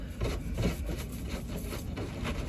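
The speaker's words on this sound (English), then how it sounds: "So I'm just tearing this up, and it will just rip how it needs to." Roots of a potted plant are torn apart by hand, giving close, scratchy rips and rustles that come in uneven bursts.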